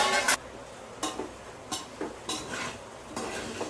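Cooked paneer fried rice being stirred in a metal pot, a ladle giving several separate scraping clinks at uneven intervals over a quiet background.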